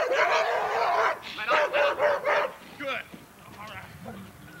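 A police K9 barks on command, a handful of loud, close barks in quick succession at a training seminar, with officers talking around them.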